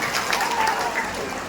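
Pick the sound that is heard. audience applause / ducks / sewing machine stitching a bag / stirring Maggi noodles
audience applause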